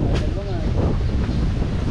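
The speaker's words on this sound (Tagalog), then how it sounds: "Ayan ang hangin, sobrang lakas." Strong wind buffets the microphone on a fishing boat at sea, a steady loud rush with low rumble filling the whole clip, with brief voices faintly mixed in.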